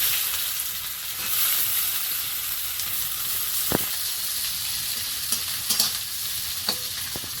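Whole cumin, dried chilies, chopped onion and garlic frying in oil, giving a continuous close sizzle with a few sharp spatula clicks and scrapes against the pan, and no voices.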